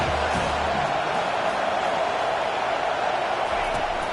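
Football stadium crowd roaring steadily behind the defense on a big third down, a dense, continuous wash of cheering and whooping with a commentator talking over it.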